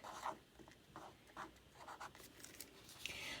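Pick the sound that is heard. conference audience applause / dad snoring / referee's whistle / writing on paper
writing on paper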